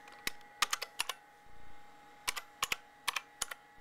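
An IBM PS/2 Model 80 computer keyboard being typed on: crisp, close mechanical key clicks in short irregular bursts with brief pauses between, over a faint steady hum.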